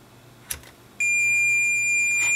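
A multimeter's continuity beep on shorted orange and yellow wires from a brushless gimbal's yaw slip ring sounds as a steady, loud high-pitched tone that starts abruptly and holds. A faint click comes just before it.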